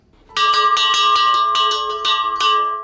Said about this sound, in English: he's ringing a bell out in the middle of nowhere